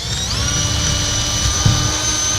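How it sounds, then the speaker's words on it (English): A power drill spins up with a rising whine, then holds a steady high-pitched whir as it bores in, close by and fairly loud. "Okay, I drilled my first hole"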